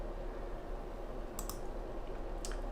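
A couple of quick, crisp computer mouse clicks sound close and quiet over a faint steady hum, with no voices.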